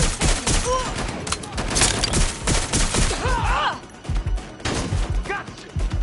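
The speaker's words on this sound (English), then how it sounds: "Suspect is shooting!" Gunfire in a video game, with bursts of rapid shots and impacts throughout, loud and close, along with voiced game lines.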